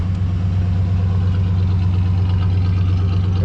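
Engine of a Chevrolet squarebody pickup truck idling steadily after start-up, a deep, even low rumble held at constant loudness throughout, close by and with no voices.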